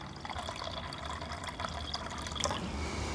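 Water poured into a container at an outdoor cliff-dwelling site while mixing red pottery paint, a steady soft trickling splash close to the microphone, with no talking.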